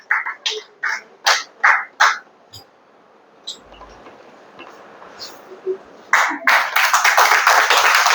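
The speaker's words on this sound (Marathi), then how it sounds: "टाळ्या वाजल्या पाहिजे नक्कीच." At a medal ceremony at a government ITI in Chhatrapati Sambhaji Nagar, a few sharp, separate claps come in a slow even rhythm, then a quiet gap, then dense, sustained applause from the audience.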